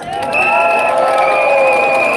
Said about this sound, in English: Where's the cheers?